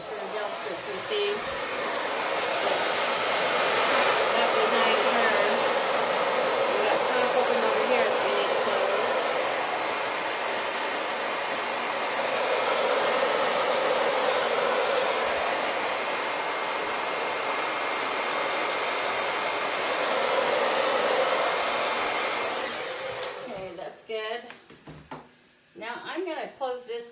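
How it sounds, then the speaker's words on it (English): A hair dryer blows on a Chalk Couture transfer in a continuous, loud, close whoosh lasting over twenty seconds, its intensity rising and falling slightly. It then cuts off, and voices talk briefly afterward. "Yep, I'm going to blow dry."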